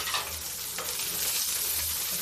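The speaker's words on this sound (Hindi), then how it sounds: "ये प्याज भून गया है।" Onions sizzling in a pan while cooking a masoor and mung mix dal, a steady close frying hiss with faint stirring, no talk.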